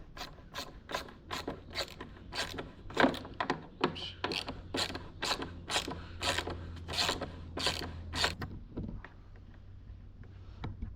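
A hand ratchet clicks in a quick, steady series of sharp strokes while loosening a 10 mm bolt on an E36 BMW, close up and fairly loud, then stops near the end.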